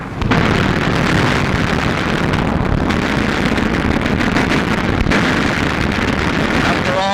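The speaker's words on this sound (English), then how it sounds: "Watch this explosion." Explosion from a 1943 wartime air battle involving twin-engine German planes with rocket guns, a loud sustained roaring blast with continuous rumbling noise and engine drone throughout.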